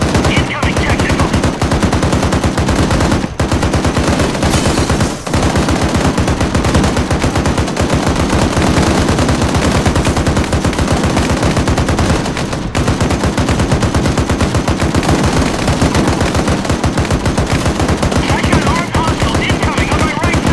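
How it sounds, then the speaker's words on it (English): Heavy sustained gunfire in ArmA 3, a Black Hawk Down–style urban firefight, with dense automatic bursts and rapid cracks running continuously and loudly throughout, punctuated by a few sharper louder shots. "Taking a lot of fire!"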